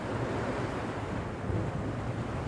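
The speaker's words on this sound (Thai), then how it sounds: "ทะเลสวยทะเลก็สวยวันนี้ขึ้นไม่แรงนะขึ้นเรียบ" Calm sea waves wash steadily onto a beach at Rayong, a continuous soft surf with some wind noise on the microphone, no voices.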